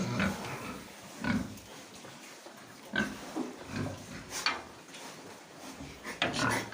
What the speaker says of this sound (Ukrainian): ось дивіться який кабанчик